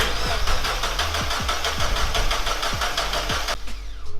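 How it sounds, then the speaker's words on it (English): A Mazda MX-5's engine cranks with repeated starter pulses and then fires into a steady, loud running note that drops off near the end, with no voices. "we're now going to start the car and drain the system of fuel."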